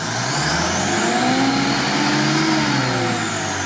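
An off-road vehicle's engine revs hard and steadily while the driver tries to reverse out of a stuck spot, a loud, continuous mid-pitched roar rising and falling slightly throughout, with no talking.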